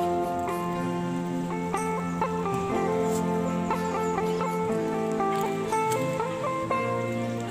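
Wild junglefowl, male and female, cluck and call close by in a steady chorus of repeated tonal notes, with a faint voice in the background.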